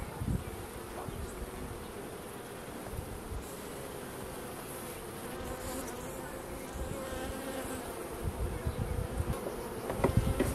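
Honey bees swarm around an opened hive while the hive is split to make a nuc, filling the air with a dense, continuous buzzing hum that swells slightly toward the end.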